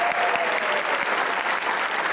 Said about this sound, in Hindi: सबसे पहले ऑडियंस के लिए तालियां